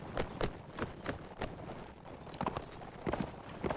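Cavalry horses' hooves clip-clop in a video game, a quick irregular clatter of several hoofbeats at moderate loudness with no talk over them.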